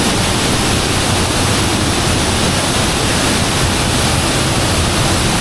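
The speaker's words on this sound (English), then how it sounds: "Big waterfall through a hole in the Colombian rainforest." A big waterfall pours through a cave hole in the Colombian rainforest near Jardín, a loud, unbroken roar of crashing water that fills everything evenly from start to finish.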